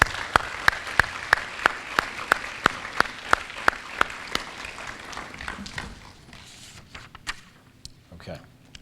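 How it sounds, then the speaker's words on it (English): Applause for teen health educators at a teen pregnancy prevention awards event, a few loud, evenly spaced near claps over softer crowd clapping, tapering off as voices murmur in the background. "Please give them a hearty round of applause"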